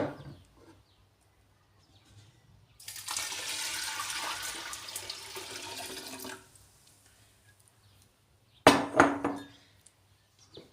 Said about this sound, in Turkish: Şöyle bolca su döktüm arkadaşlar üzerine.